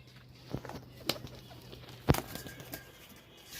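A pigeon belonging to a senior pigeon-keeping master makes a few short, scattered sounds, soft calls and flutters, close by over a faint steady hum.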